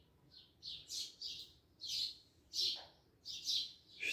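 An azulão songbird sings in curió style from a cage, a series of bright, short whistled phrases separated by brief pauses, fairly close over a quiet background.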